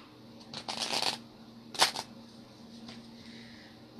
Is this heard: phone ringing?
no